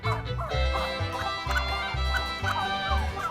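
Turkeys at a poultry farm gobble in repeated rapid bursts, several close calls overlapping in a rhythmic chorus against a quiet background.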